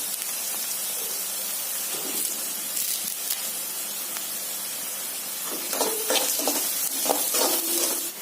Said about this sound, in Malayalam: നമുക്ക് ഇതിലേക്ക് കറിവേപ്പില ഇട്ട് കൊടുക്കാം